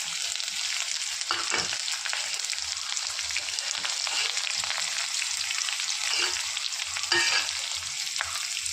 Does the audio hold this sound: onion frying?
yes